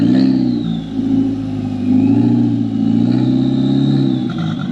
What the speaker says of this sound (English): It did sound pretty cool with the turbo whistling